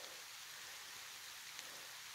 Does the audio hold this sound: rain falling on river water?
yes